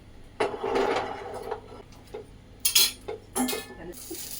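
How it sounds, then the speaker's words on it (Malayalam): A utensil stirs peanuts into melted butter in a pan, making scattered close scrapes, clacks and knocks with short pauses between them. "ഇതിലേക്ക് നമ്മുടെ പീനട്ട്സ് ആഡ് ചെയ്ത് കൊടുക്കും. നമ്മൾ ബട്ടർ എല്ലാം ഫുള്ള് മെൽറ്റായി. ഇളക്കി യോജിപ്പിക്കും"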